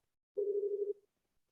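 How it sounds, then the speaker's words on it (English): A telephone tone sounds during a board meeting: one short, steady beep of under a second, clear and fairly faint, with silence before and after. "Oops, sorry about the phone there."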